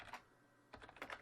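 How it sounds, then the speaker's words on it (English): Typing on a computer keyboard at a console, two short clusters of crisp, quick keystrokes separated by a brief pause, close and fairly quiet. "click in the console, and start typing"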